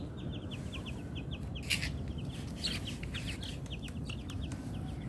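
Chickens cluck in a quick repeated series of short calls over a constant low outdoor rumble. The sound is fairly close and runs throughout with no talking.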